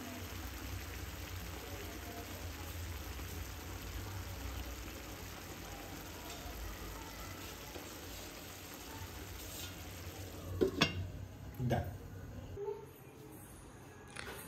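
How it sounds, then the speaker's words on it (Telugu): Prawn masala curry simmers covered in oil in a pot, giving a steady soft sizzle and bubbling throughout, with a few louder clatters near the end. "ఇప్పుడు సిమ్లో పెట్టుకో, ఈ సిమ్ కంటే కొంచెం పెద్దగా పెట్టుకొని మూత పెట్టుకొని ఆయిల్ పైకి తేలేంత వరకు మగ్గించుకోవాలి."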